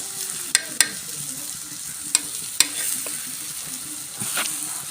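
A two-egg omelette fries in a pan with a steady, close sizzle, broken by a few sharp clicks and scrapes as it is stirred or nudged.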